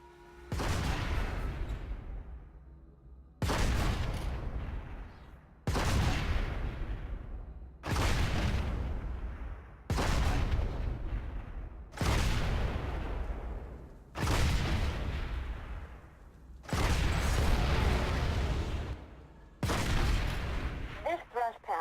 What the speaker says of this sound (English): The anti-vehicle phalanx turret offers great defense against ground vehicles with its high explosive rounds.